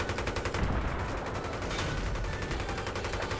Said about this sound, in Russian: Пехи, походу, стреляют.